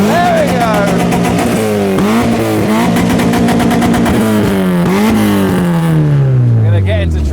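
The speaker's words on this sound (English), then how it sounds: "Mark II MX-5, you've stopped revving just as the camera's here." Modified Mark II Mazda MX-5 engine revs repeatedly up close, the pitch climbing and dropping in several blips before settling into a falling note, loud under an outdoor crowd, with people talking nearby.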